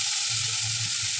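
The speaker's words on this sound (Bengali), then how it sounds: "এই মশলাটা একটু ভাজা হয়ে যাক" Spice masala sizzles steadily in hot oil in a home kitchen pan, a close, continuous bright frying hiss with a low bubbling undertone and no talking.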